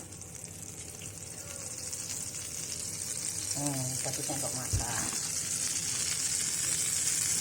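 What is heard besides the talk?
butter sautéing in a pan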